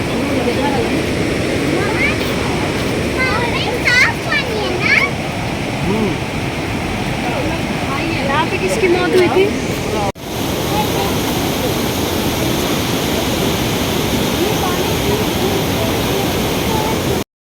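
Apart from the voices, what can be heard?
fast-flowing milky white river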